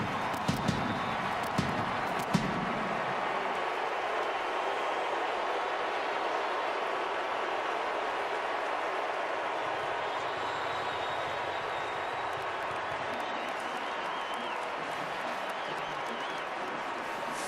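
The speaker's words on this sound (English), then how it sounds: "Fabulous sellout crowd on hand here at the Rose Bowl." A sellout stadium crowd at the Rose Bowl roars as a steady, broad wash of noise, with a few sharp claps or knocks early on.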